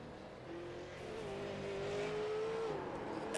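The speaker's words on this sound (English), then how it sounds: "And listen to the engine." A race car engine droning on a racing track, heard from a distance as a steady tone that slowly rises and swells in loudness as the car comes off a turn, then drops away.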